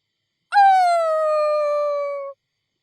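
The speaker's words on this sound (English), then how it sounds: "A long, loud howl answered her. Several more followed it, surrounding them in the darkness." A single clean howl rises sharply, then holds a long steady tone for about two seconds before cutting off into silence.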